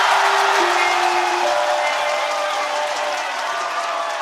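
Enthusiastic home crowd fills an arena during free throws at a New Taipei Kings vs Hsinchu Jko Lioneers PLG basketball game, a dense, loud, steady roar of cheering and applause that holds throughout.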